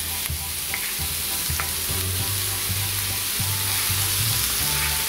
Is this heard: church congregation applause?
no